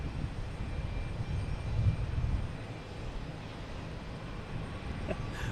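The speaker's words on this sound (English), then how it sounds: "There's Delta and E-170 coming in from Philadelphia." A Delta Embraer E-170 airliner arriving at Boston Logan from Philadelphia gives a faint, distant low engine drone over steady background noise, swelling slightly early on and then settling, with no voices.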